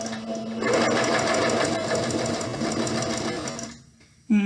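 A sewing machine stitches a straight seam on a pillowcase, a loud steady mechanical whirr that runs unbroken for several seconds, then stops abruptly before a short burst of noise at the end.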